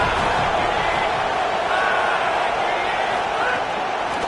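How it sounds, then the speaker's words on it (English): Crowd at a college football game between Florida and LSU roaring steadily in a stadium, a dense, loud, continuous wash of cheering from a large audience with no pause. "This crowd ready to make its presence known."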